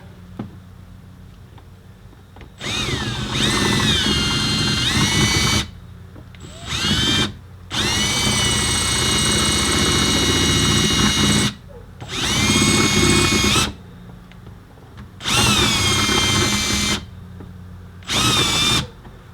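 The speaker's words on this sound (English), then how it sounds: "Just putting light pressure on there so the drill bit doesn't grab." A power drill whines loudly in several long bursts, its pitch shifting under load as the bit bites into the metal of a 2004 Volvo XC70 during a tow hitch install, with short quiet gaps between runs.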